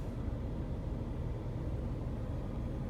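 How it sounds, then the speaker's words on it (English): A Toyota RAV4 creeps slowly past with a low, continuous rumble of engine and tyres, heard steady and fairly close with no voices over it. "Toyota RAV4 is creeping by."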